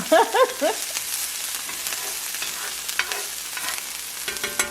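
Peppers sizzle in a very hot skillet over a low flame, a busy crackling hiss with spattering pops and occasional utensil scrapes, no voice heard.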